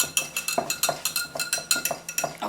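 A whisk beats egg whites in a bowl, a quick rhythmic series of light metallic clinks and scrapes against the bowl, close and steady with no voices.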